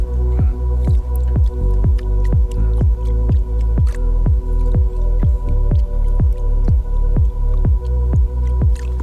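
Gold pay dirt tailings from Georgia being panned in water, a steady run of regular wet sloshing swishes, close and fairly loud, repeating about twice a second with no talking.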